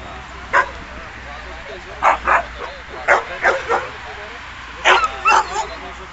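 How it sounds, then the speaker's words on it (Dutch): Husky barks in short bursts, several woofs and yips scattered across the clip, fairly close and clear against a quiet outdoor background at a husky meetup, with people talking nearby. "Want je blaft nu alleen maar"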